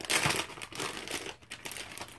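A scented wax loaf of marshmallow milk glass being cut, giving close crinkly scraping and crumbling textures in uneven bursts, steady and fairly loud, with no voices.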